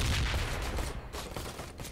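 Rapid gunfire in the Ride to Hell: Retribution video game, a dense burst of shots rattling continuously at close range, loud and sustained for about two seconds.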